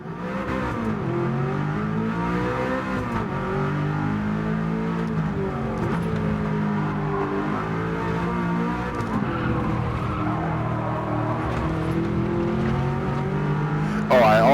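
A race car in Gran Turismo 7 on sport tyres in cold conditions with race brake pads, its engine revving and rising and falling in pitch while the tyres squeal and skid continuously, loud and close, with someone talking over it.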